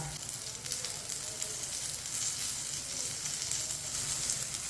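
A paratha on a pan over medium-low heat sizzles with a soft, steady frying crackle, faint and continuous for several seconds without talk.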